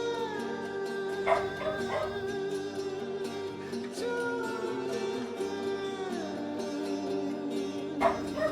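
A pet dog barks and howls in the room, faint and intermittent behind steady, sustained electronic game music.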